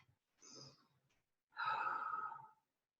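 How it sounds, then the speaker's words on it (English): During a core workout, a breath is drawn in and then let out in a long, audible sigh, two soft breathy bursts close to the microphone in otherwise quiet surroundings. "Let's take a deep breath."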